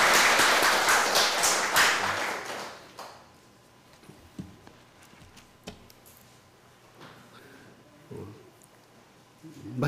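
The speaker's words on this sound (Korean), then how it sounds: "우리 박수 한번 칠까요?" Church congregation applauding during a Sunday worship service, a loud burst of clapping for the first three seconds that then stops, leaving a quiet room with a few faint taps and small noises.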